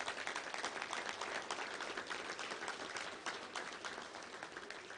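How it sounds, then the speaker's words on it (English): An audience applauds steadily at a touchdown club luncheon, a dense, sustained wash of clapping that holds fairly even throughout with no talking over it. "Let's give them a round of applause."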